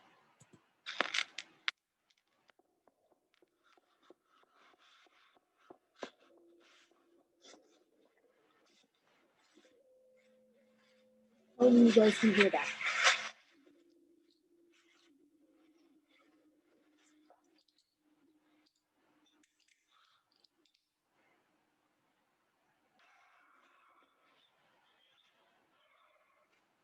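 A Minecraft music disc from the video game plays as sparse faint clicks and crackles, then one loud rough burst midway that fades into a quiet low hum. A voice speaks briefly near the start.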